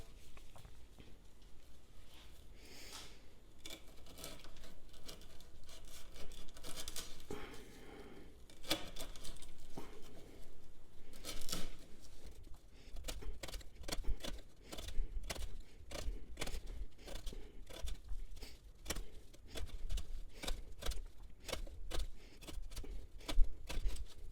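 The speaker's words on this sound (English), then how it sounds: "we're going to try cutting up some of this 1/2 inch twisted sisal rope" A knife slicing through half-inch twisted sisal rope on a board, heard as a long series of sharp fibrous snaps and cuts, irregular at first then coming in rapid repeated bursts, close and fairly quiet.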